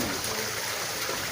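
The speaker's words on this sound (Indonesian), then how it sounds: "Inilah Taman Cadas Air Terjun di rumah Bapak Imam Senen," Water pours steadily over a rock waterfall in a garden, a continuous broadband rush and trickle that stays even and fairly close throughout, with no voices.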